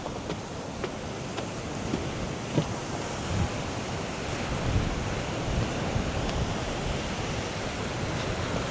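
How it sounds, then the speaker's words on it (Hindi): Strong wind roars continuously across a Fort Lauderdale beach, buffeting the microphone with steady broadband rush while surf washes in beneath it; no one speaks. "लेकिन हवा काफ़ी चल रही है"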